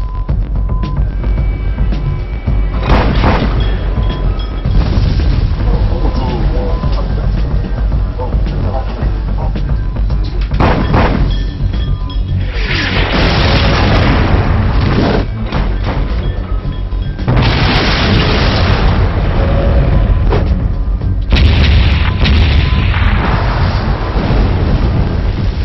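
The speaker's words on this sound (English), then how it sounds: "The shells explode beside the target, spraying it with shrapnel." Naval artillery shells burst beside a target ship, the former destroyer Huron, at sea: loud, heavy booms roll one after another over a constant rumbling roar, with several distinct blasts.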